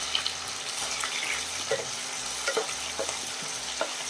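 Three onions frying in hot oil with chana dal and urad dal for rava upma, a steady broadband sizzle with occasional soft stirring scrapes and clinks, close and even throughout with no talking.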